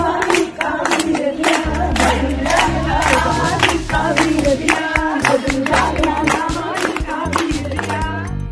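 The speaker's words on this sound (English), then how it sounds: "the elderly women along with her brother Badishah can be seen clapping and cheering her on as they do a few Gidda steps" Elderly women in Punjab clap and cheer through a Gidda folk dance. Steady rhythmic handclaps mix with loud singing and music, continuous and close.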